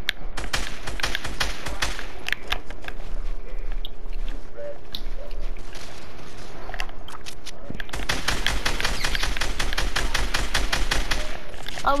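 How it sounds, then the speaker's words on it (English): Fortnite video game gunfire, loud, rapid, steady automatic bursts that rattle nearly throughout, with a short lull in the middle before resuming, over the game's background sound. "He's landing trying to shoot me."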